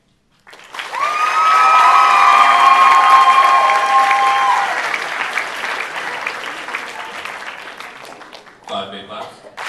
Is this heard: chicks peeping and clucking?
no